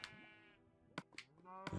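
A sheep bleats in Minecraft, a few faint, wavering tonal cries with short sharp clicks between them, quiet and close.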